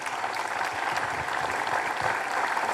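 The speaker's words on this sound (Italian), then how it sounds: "adesso la deve costringere con un applauso" An audience of around a thousand people applauds to coax a shy woman named Paola onstage, a dense, steady wash of many hands clapping throughout with no voices rising above it.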